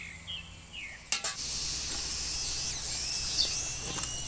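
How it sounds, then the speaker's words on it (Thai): Water boils in a pot with a steady hissing bubble, close by, and a couple of sharp clinks of metal early on. "น้ำเดือดแล้วนะคะ"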